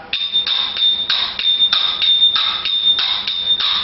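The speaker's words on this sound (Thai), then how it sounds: "นี่ก็คือเสียงของชิง" Thai ching, small bright cymbals, strike in a steady repeating pattern, ringing sharply with short metallic decays, close and fairly loud.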